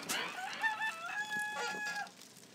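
A rooster crows once in the Ape Academy game, a clear drawn-out cock-a-doodle-doo call lasting about two seconds, fairly close and alone.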